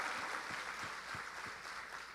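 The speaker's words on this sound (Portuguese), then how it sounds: "Pode aplaudir ao Senhor" Congregation applauding during a church service, a steady wash of clapping heard from a distance, faint and diffuse with a few individual claps standing out.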